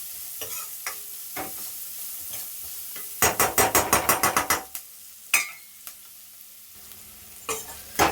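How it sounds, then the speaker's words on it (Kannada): Food frying in oil in a pan, a soft background sizzle punctuated by a quick run of sharp stirring clacks and scattered knocks of a utensil against the pan. "ಸೊ ಇದನ್ನು ಈಗ ನೀಟಾಗಿ ಎಣ್ಣೆಗೆ ಚೆನ್ನಾಗಿ ಫ್ರೈ ಮಾಡ್ಕೊಳ್ಳೋಣ."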